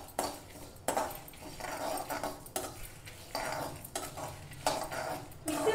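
Masala spices for a chicken curry are pounded by hand, giving close, repeated heavy thuds with a scraping rattle about once every second. No voices are heard.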